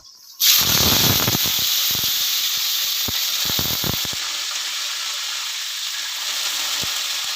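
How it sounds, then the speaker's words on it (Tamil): Small onions drop into hot oil and burst into a loud, steady sizzle that holds for several seconds, with faint crackles and pops scattered through it as they fry for a village-style mutton kulambu. "இப்போ வெங்காயத்தை போட்டுருவோங்க."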